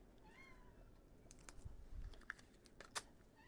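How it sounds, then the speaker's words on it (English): A cat meows faintly a couple of times early on, then soft tapping and clicking like keyboard typing with a few sharper knocks, all fairly quiet and without speech. "That's my cat, Fizz."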